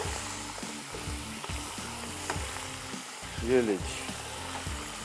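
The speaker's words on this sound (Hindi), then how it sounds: "इसके बाद अगेन इसको भुनाव फ्राई करेंगे मसाले के साथ पहले।" Beef frying in a hot pot with nihari masala, a steady loud sizzle with stirring and scraping throughout and a brief word from a man.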